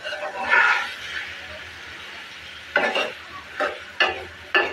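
Chicken liver and potato pieces sautéing in a pan: a low sizzle carries under the sound, then four sharp stirring scrapes come in quick bursts near the end, close and clear.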